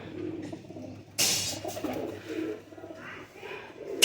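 Pigeons coo repeatedly in low, soft throaty calls, close by in breeding boxes during breeding season, with a burst of fluttering and shuffling midway through.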